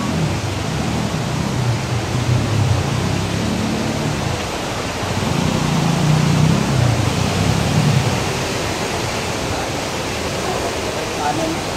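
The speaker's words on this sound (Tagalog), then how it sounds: "Lakas ng tubig." Strong water rushes in a loud, steady broadband roar near a cave beneath a large floating house, filling the whole stretch with no break.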